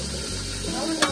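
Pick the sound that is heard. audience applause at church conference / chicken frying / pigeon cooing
chicken frying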